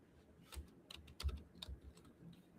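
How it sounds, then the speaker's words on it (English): Computer keyboard being typed on in short irregular bursts of quiet key taps, fairly close but soft, with no voices. "I'm always tapping on the wrong keyboard"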